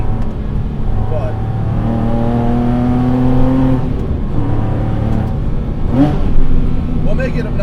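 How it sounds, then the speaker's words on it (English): A wide-body Porsche Cayman with a naturally aspirated 4.2L engine runs in open exhaust mode, its note climbing through rising revs in smooth harmonic sweeps, then dropping and pulling again; someone talks over the engine at times. "We're gonna go open exhaust mode for a second, and I'm just gonna drive."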